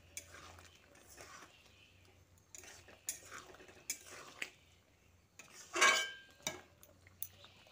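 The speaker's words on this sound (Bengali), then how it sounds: "আলুগুলো দিয়ে সয়াবিনের সঙ্গে ভালো করে মিশিয়ে নিচ্ছি।" A spoon scrapes and clinks against a pan while fried potatoes are mixed into soybean curry, in intermittent strokes with quiet gaps and one louder, longer scrape near the end.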